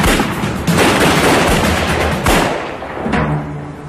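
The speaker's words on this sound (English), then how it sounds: "There was an exchange of gunshots." Rapid exchange of gunshots during a bank robbery getaway as police close in, dense cracking bursts that overlap into a continuous loud barrage with a few sharper peaks, no voices.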